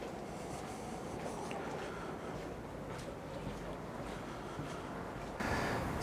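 Steady broadband rumble and rattle of a moving train near Wilmcote, England, heard from inside, with a louder surge of noise near the end.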